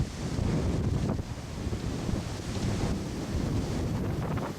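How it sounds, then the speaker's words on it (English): Wind picks up over Biscayne Bay near Boca Chita Key ahead of a squall, gusting loudly across the microphone in rough buffeting surges over a faint wash of waves, with no speech. "And before the rain arrives, the wind starts to pick up."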